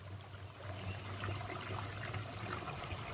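A small outdoor waterfall in a park trickling and splashing steadily, a continuous soft wash of water noise heard from nearby with no talking.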